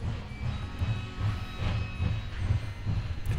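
A train in the VR video game H3VR rumbles steadily with a low rhythmic clatter and faint hiss, continuous throughout at moderate volume.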